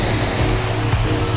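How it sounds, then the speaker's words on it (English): A waterfall at the KOA campground resort in Port Huron, Michigan, makes a steady, dense rushing roar of falling water close by, with no talking over it. "we've got this lovely waterfall in the background"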